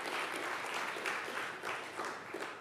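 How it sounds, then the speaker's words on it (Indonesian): A church congregation claps together in a steady, dense wash of applause, loud and continuous throughout the short stretch. "Tepuk tangan untuk Tuhan."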